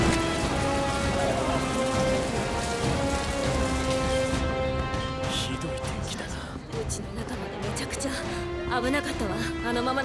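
Heavy rain from a wind-driven storm drumming steadily underneath, while voices and tonal music sit over it, the downpour thinning slightly midway before building again.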